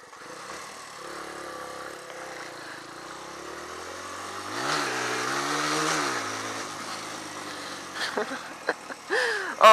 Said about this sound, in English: riding a motorbike